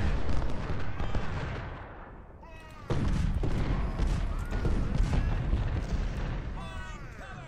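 Battery of eight 24-pounder cannons firing in a Civil War strategy game battle at Cedar Mountain, loud repeated booms and crackling volleys over dense continuous battle noise, with some faint voices.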